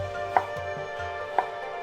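Knife strikes on a board as oyster mushrooms are cut into bars, two sharp chops about a second apart over a steady kitchen hum.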